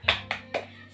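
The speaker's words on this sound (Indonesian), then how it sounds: "Tepuk semangat." Class following a teacher in a 'tepuk semangat' clapping routine: three quick, crisp claps in a steady rhythm, close and fairly quiet, with no talk over them.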